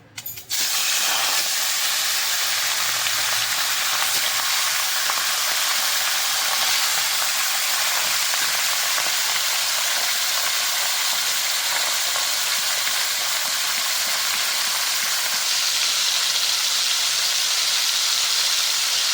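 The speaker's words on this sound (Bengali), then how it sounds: "তেলটা আমার গরম হয়ে গেছে এবার দিয়ে দেবো মাছগুলো" Fish fry loudly in hot mustard oil, a dense, steady sizzle and hiss that bursts in at once and holds unbroken, close and alone with no talking.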